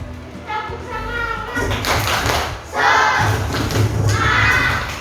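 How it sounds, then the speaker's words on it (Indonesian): Primary school classroom children perform a rhythmic spirit clap, tepuk semangat, in short group bursts of clapping and tapping mixed with chanted voices, repeating several times with brief pauses between. "Yuk, Mirza, bimbing temannya untuk melakukan tepuk semangat"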